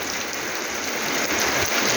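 Steady, dense hiss of out-of-season rain falling in rural Thailand, a continuous close wash of drops on surfaces with no pauses.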